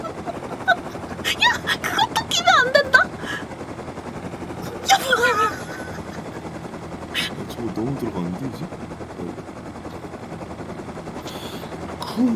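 Helicopter in a video game droning beneath bursts of rapid game gunfire, with excited voices talking over the din throughout.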